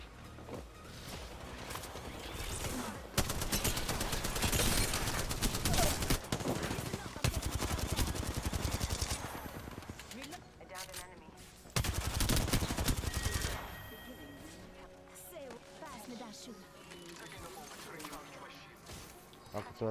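Bursts of video game gunfire, dense and rapid like automatic weapons, come in loud volleys with quieter gaps between them, under voices talking.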